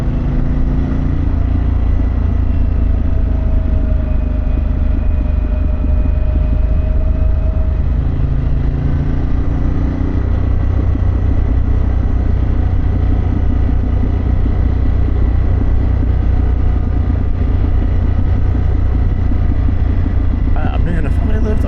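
Indian Challenger Pan America motorcycle exhaust while riding through Pennsylvania with friends, a loud steady engine drone with wind rumble throughout and someone talking over it.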